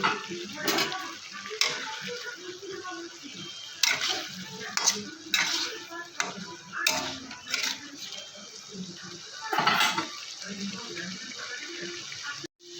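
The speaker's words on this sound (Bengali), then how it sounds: "এই যে মাছগুলো ভেজে রেখেছি, এখন দিয়ে দেবো" Fried morola fish being added to a pan of curry made with green chillies and stirred in, giving scraping stirs and light sizzling with intermittent clatters and a faint watery background throughout.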